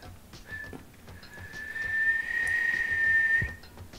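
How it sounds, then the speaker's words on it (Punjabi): A person whistles one clear, sustained high note lasting about two seconds amid quiet background noise during an interview. "ਸੀਟੀ ਮਾਰ ਕੇ ਦਿਖਾਓਗੇ"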